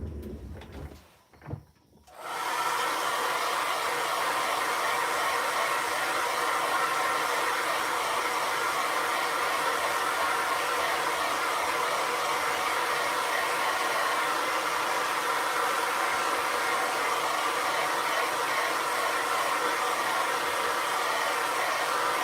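A hair dryer blows steadily on a loose watercolor and ink painting of a tropical fruit stand, starting after a brief handling clatter and then roaring on as a loud, even, continuous whoosh close by.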